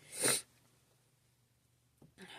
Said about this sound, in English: my nose is runny because of that sneeze